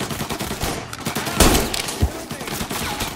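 Gunfire in the Mafia remake, an ambush on the player: rapid overlapping shots over a busy game backdrop, with one loud close blast and a second heavy report shortly after.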